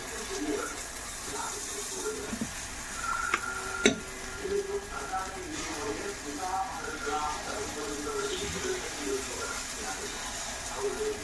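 Paniyaram batter made with solam (sorghum) poured into a hot paniyaram pan, giving a steady low sizzle and watery crackle throughout, with a sharp clink near the middle and a voice talking over it.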